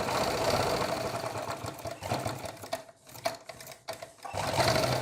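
A sewing machine runs in bursts while stitching a round collar neckline, its fast steady needle chatter loud and close, pausing briefly before starting up again, with no voices.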